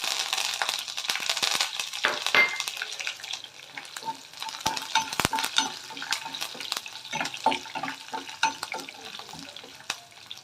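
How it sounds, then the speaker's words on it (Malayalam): Curry leaves and green chillies frying with garlic in hot oil, a dense close sizzle broken by frequent crackles, pops and clinks of stirring throughout. "വറുക്കുക. കരിവേപ്പിലയും ചില്ലിയും കൂടെ."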